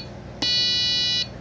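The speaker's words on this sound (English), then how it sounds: "Push and hold, one beep, two beeps." A Robo-Tank auto top off controller gives a single sharp electronic beep, a steady high tone lasting under a second, loud and close against a faint background.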